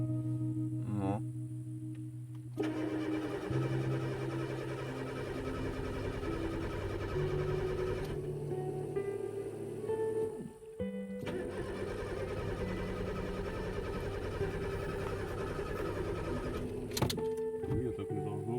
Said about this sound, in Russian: Конечно же, машина у нас не завелась